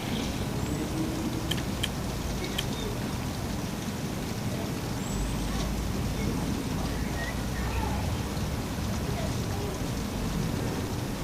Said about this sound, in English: a rain shower suddenly strikes